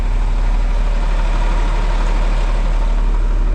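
A 1982 tractor engine idling, a steady, loud low-pitched rumble and diesel clatter heard close up, continuous and unchanging.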